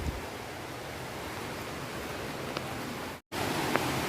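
Herbal waterfall water at Kolli Hills pouring steadily down from the hillside, a continuous broadband rush heard alone, with a brief dropout near the end before the flow resumes.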